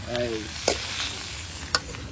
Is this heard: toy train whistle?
no